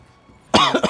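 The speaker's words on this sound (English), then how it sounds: "I started coughing first, and all of a sudden, just sneezing everywhere." A person lets out two or three harsh, close coughs in quick succession after a moment of near quiet.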